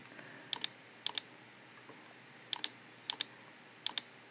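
Computer keyboard keys are pressed in quick pairs of crisp clicks, five separate bursts spaced by short pauses over a quiet background, with no voices.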